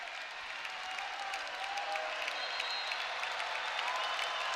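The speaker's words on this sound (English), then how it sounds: "Crowd trying to get loud again." Crowd at an Iowa at Nebraska volleyball match cheering and applauding in a big arena, a steady wash of clapping and shouting that holds throughout without letup.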